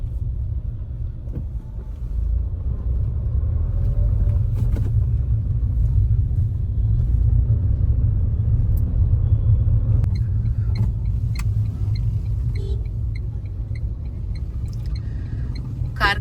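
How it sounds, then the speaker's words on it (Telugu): Steady low rumble of main-road traffic, with engines passing continuously at close range and occasional faint horn-like tones over the drone. "ఈ టైంలో కూడా చూడండి ఎలా ఉందో ట్రాఫిక్."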